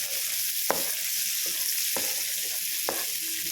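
Chopped vegetables sautéing in a pan over a medium flame, with a continuous close sizzle broken by four or five sharp scrapes and clicks of a stirring spoon against the pan.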